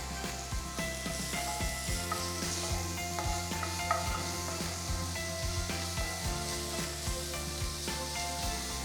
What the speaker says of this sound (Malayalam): സവാള സോഫ്റ്റ് ആകുന്ന വരെ കുക്ക് ചെയ്യണം.